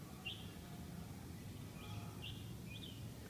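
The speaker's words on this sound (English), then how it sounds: "You can hear lots of birds too." Birds chirp at sunrise in Chiang Mai, Thailand, in short, high calls, a few scattered notes over a faint steady background hum, fairly distant.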